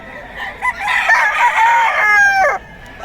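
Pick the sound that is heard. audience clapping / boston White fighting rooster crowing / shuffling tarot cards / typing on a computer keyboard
boston White fighting rooster crowing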